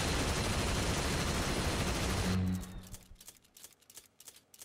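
Rapid gunfire from a boss's nipple-mounted guns in the action game No More Heroes, a dense, loud roaring burst that cuts off abruptly, followed by sharper scattered shots and impacts at lower level.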